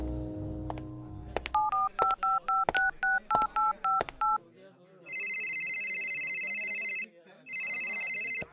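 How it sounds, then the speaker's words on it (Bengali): A telephone call being placed: a run of short dual-tone keypad beeps punched in quick succession, followed by a long ringback tone that pauses and sounds again, with a voice speaking faintly at the start. "গাড়িতে আস্তে আস্তে ফোন করে"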